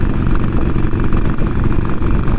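2020 Harley-Davidson Iron 1200 Sportster V-twin engine rumbles loud and close in a low, steady, lumpy idle with no revving across a short stretch.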